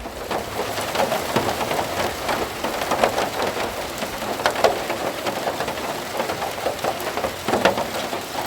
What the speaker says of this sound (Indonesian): Lumayan kayaknya bakalan lebat ini hujannya ya.